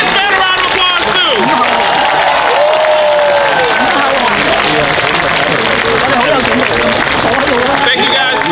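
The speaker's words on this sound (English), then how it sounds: "Give this man a round of applause too" At a sumo wrestling event at a Japan festival in Orlando, a crowd claps and cheers loudly and steadily, with excited voices and shouts mixed throughout the applause.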